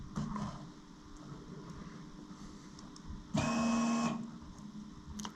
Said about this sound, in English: That was the fuel pump.